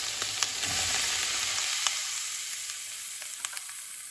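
Salted potatoes sizzle as they are stirred and fried in a pan, a bright steady hiss punctuated by sharp clicks of a utensil against the pan, with the frying easing slightly after the first seconds.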